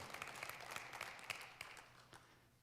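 Congregation at a church service applauding, a dense patter of many hands with scattered sharper claps, moderately loud and fading toward the end.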